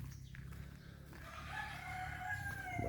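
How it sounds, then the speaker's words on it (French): A fighting rooster crows once, a drawn-out, wavering call that rises out of the ambient noise of a farmyard and carries to the end. "C'est un coq de combat."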